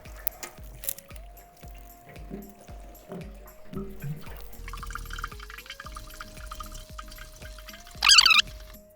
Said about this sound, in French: Hop, vous mettez de l'eau dedans, vous refermez, vous rescouez